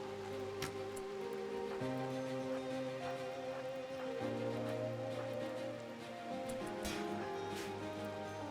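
Steady rain falling in the video game Rimworld, a soft continuous patter heard alone at an even level, with game music tones running underneath.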